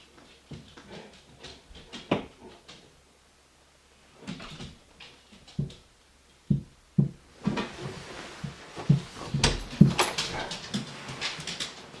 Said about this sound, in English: He's scratching the door